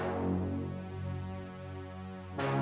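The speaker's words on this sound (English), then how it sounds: "Same notes, but together, this is what you get." Synth brass and synth strings layered in unison on the same notes sustain as a thick chord, dipping slightly before a fresh attack near the end, with no voices.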